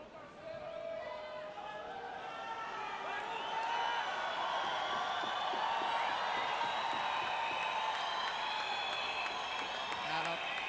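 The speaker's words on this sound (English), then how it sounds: "that's what the crowd are getting excited for" Crowd cheering and chattering at a Rio 2016 Paralympic swimming heat, the men's 200m individual medley SM9, a steady loud roar of many voices swelling slightly and holding throughout, with commentary-like talk blending into the din.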